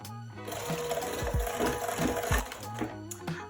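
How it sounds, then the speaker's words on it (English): An electric hand whisk beats pumpkin donut batter in a bowl, giving a steady, close motor whir with rattling clatter from the beaters against the bowl throughout, and no talking. "My electric whisk, you could use a hand whisk of course, and give this a mix until it's nice and creamy and incorporated."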